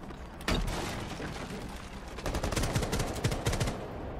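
Rapid gunfire in Rainbow Six Siege, a dense clatter of bursts with a sharp opening shot and a heavier run of repeated shots toward the end, close and loud, with faint voices mixed in.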